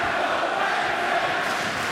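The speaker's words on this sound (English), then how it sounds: "The chant of "Let's go Benson" coming up from a sold-out crowd" A sold-out Bellator 153 crowd chanting for Benson Henderson during his fight against Andrey Koreshkov, a dense, loud, continuous roar of voices filling the arena.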